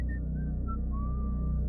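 A lone person whistles a few faint, wavering notes that slide upward, set against a steady low hum in a quiet night-time scene for a scary story.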